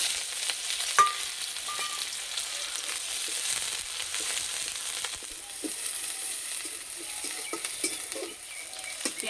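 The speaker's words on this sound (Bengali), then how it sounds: "পেঁয়াজ রসুন বেশি ভাজবো না," Chopped garlic and onion frying in oil in a wok, a soft continuous sizzle with occasional stirring scrapes and small pops, fairly quiet and steady with no talking.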